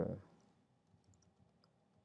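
A single crisp click on a Mac computer, close and sharp at the start, then near silence with faint room noise.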